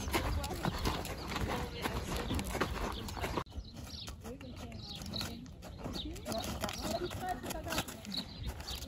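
A grey horse being started under saddle walks with steady clip-clop hoofbeats outdoors, birds faintly around, while a trainer talks through much of it.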